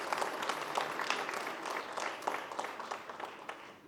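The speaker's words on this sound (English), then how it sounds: "You don't even clap at the right moment." A conference audience claps together, a quick, continuous patter of many hands at moderate loudness that gradually thins toward the end.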